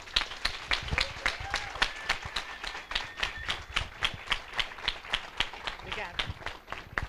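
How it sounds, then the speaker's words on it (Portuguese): Attendees at the opening ceremony of a Model UN conference clap for an ambassador in a steady, evenly spaced rhythm of sharp claps. It sounds fairly quiet and slightly distant, with faint voices underneath. "Por favor, muitos aplausos, Vossa Excelência, embaixadora Irene Vidagal"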